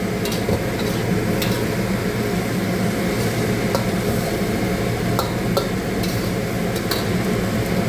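Bitter gourd stir-fried with eggs and tomatoes in a hot pan, a continuous loud sizzle with scattered scraping and clinking of a utensil against the pan throughout, no voices.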